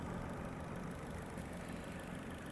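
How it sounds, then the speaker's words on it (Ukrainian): A 2009 Opel Zafira with a 1.6 petrol/gas engine idles steadily and evenly, a continuous low rumble heard up close with no talking. "Двигун працює дійсно гарно, без зауважень, не димить."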